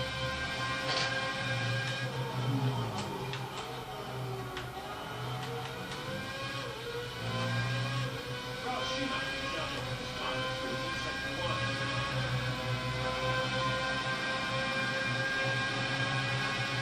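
Formula 1 car engine in the F1 2006 PlayStation 2 game at Bahrain, a steady high-pitched whine droning throughout a lap with slight rises and falls in pitch, moderately loud and continuous.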